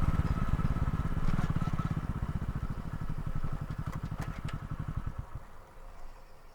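A motorcycle engine idling nearby, a fast steady low chugging putter that stays loud and even, then drops slightly near the end, with a few light clinks over it.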